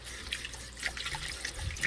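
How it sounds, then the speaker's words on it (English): Water from a tap running into a bowl while preparing sea moss gel, a steady close splashing trickle with small drips that lasts under two seconds. "I'm going to show you how much water I add to my bowl"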